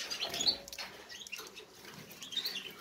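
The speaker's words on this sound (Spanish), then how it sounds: "Los pajaritos se van poco a poco" Small pet birds flutter in an aviary, with soft, quick wing flaps and faint chirps and scratchy patter, fairly close and without talk.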